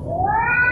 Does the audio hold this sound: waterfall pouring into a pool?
no